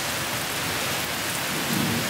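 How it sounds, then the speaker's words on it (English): Heavy summer downpour falling on a street, with water flowing down the road, heard as a dense, loud, unbroken hiss of rain with a soft low rumble beneath and no talking. "it's pretty rainy for that, especially with the camera"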